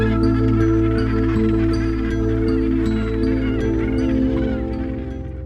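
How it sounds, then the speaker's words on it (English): A breeding gannet colony calls in a dense, overlapping chorus of harsh, honking cries from many birds. It is loud and continuous, with repeated sharp calls standing out against the steady din. "The gannet colony is growing by the day."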